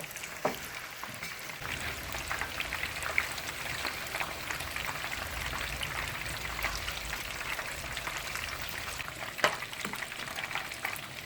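Duck curry sizzles and bubbles steadily in a covered pot, with soft crackles and occasional sharper pops, fairly quiet and close.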